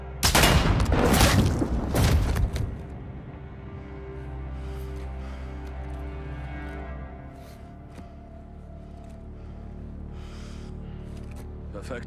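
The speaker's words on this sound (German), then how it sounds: "Perfekter Schuss, Lieutenant." Gunfire in the video game Call of Duty Modern Warfare 2 opens with a loud, dense burst of rapid shots over the first few seconds, then fades into a quieter game soundscape with music and voices.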